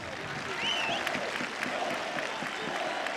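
Football supporters in the stands at Koševo stadium, Sarajevo, during a Sarajevo versus Velež match, make a dense, steady roar of crowd noise with clapping and chanting, broad and sustained throughout.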